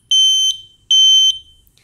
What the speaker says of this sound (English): The detector alarm in seconds.